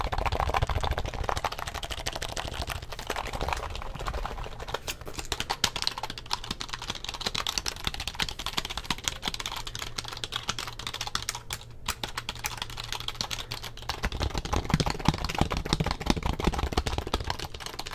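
Fast, continuous typing on a computer keyboard, dense rapid key clicks recorded close up, with no pauses for a long stretch.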